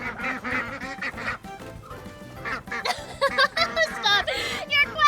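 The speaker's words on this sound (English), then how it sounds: "Well, fuzzy ducks, do you have anything to say to my friends?" Fuzzy ducklings on a farm quacking in a rapid, chattering run of short calls, some bright and squeaky, loud and close with brief gaps between bursts.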